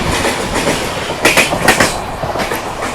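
Yeshwantpur Superfast Express, train number 20668, rushing past at high speed on the opposite track, a loud steady roar of wheels on rail with rhythmic clickety-clack bursts and no voices.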